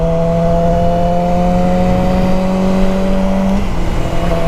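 Yamaha R6 sport bike engine revving high with a steady, loud, sustained whine that holds its pitch, then drops sharply near the end as the revs fall away.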